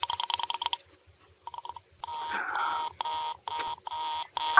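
A 1940s radio drama telephone busy signal sounds as repeated buzzing tone bursts, regular and mid-loud, broken by a brief garbled switching noise before the pulses resume.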